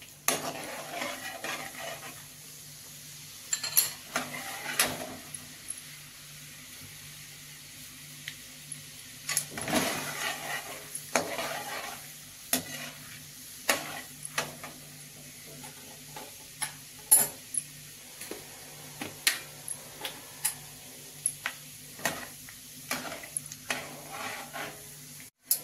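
Roasted chana dal fries in oil for a crisp poha chivda, a soft steady sizzle under frequent clinks and scrapes of a spoon stirring against the pan, with no voices.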